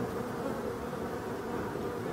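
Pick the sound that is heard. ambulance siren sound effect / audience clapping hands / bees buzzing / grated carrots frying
bees buzzing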